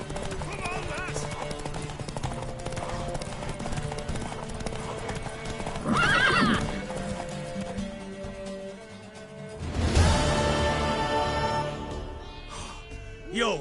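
Horse hooves clip-clop in a steady galloping rhythm within a Witcher 3 game scene, running loud beneath repeated voices, with a brief whinny and a surge of crowd-like noise near the end.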